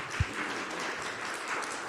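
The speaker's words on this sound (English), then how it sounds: "If we can give our presenters a round of applause." A community forum audience applauds its presenters, a brief, fairly faint patter of clapping with one low thump near the start, no voices over it.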